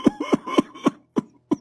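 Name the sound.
persistent cough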